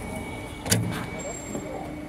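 A car's rear trunk is opened at an outdoor used-car market in Riyadh, giving one short clunk against steady background noise and faint voices.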